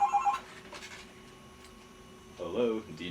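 A telephone rings briefly for an incoming call, its short tonal burst standing out near the start before a quiet stretch and a voice.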